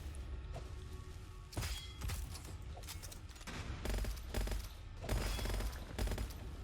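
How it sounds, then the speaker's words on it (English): Rapid bursts of gunfire in the shooter game Gunfire Reborn, piercing rounds punching through an enemy's shield; dense repeated volleys with clattering impacts, loud and continuous with brief pauses between strings of shots. "We have piercing shots, so I can shoot right through this guy's shield."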